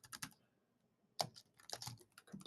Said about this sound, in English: I apologize in advance for my elementary typing capabilities here